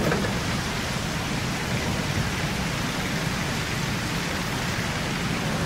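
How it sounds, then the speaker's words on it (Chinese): Heavy rain pours down in a dense, unbroken hiss that stays loud and even from start to finish, with no voices over it. "越下越大， 太大了也， 怎么会这么大雨啊？"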